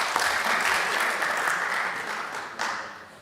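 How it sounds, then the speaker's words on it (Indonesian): Steady applause from a crowd at a DPR parliamentary meeting, dense and continuous, fading slightly before a brief swell near the end. "Kasih tepuk tangan dulu untuk institusi kita."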